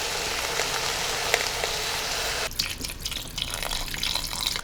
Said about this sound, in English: And then we're going to cover this with water.